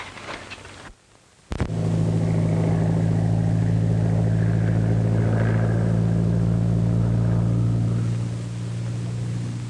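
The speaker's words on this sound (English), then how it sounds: "It's a plane." A steady low airplane engine drone hums continuously after a brief dip, loud and unbroken, as the plane passes overhead, from the 1939 film Danger Flight.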